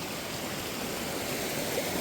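Water of a stream swollen by heavy rain in Arunachal Pradesh rushes steadily, a continuous broad hiss and roar at moderate level with no other sounds.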